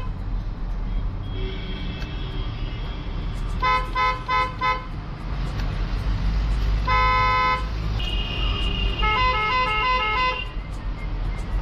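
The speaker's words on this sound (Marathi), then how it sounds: "तर झालंय आपल्या गाडीच्या हॉर्नचं काम." A newly fitted horn on a pickup truck honks in several loud, close bursts, short toots and longer blasts, over a steady low rumble of traffic or idling engine.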